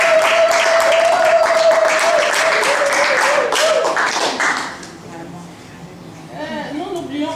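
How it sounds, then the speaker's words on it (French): Applause from an audience honoring women colleagues at a university panel, with a dense wash of clapping that fades out midway, a tone audible early on and some voices at the end. "nous voulons vraiment vous applaudir"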